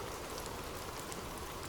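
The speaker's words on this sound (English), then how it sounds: "The sound of abundant rain." Heavy rain falls as a dense, even hiss of countless drops, steady and unbroken throughout, with no voices.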